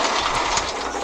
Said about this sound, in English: I might as well just let this train hit me.